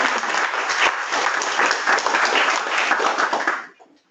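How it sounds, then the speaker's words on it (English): An audience claps warmly at a talk on nature-based disaster risk reduction; dense, even applause runs loud for several seconds, then cuts off quickly near the end. "So maybe we could give everyone a round warm applause."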